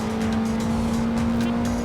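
Tires squeal steadily as a sim racing car's brakes lock up in a video game, a sustained tonal screech over loud engine noise.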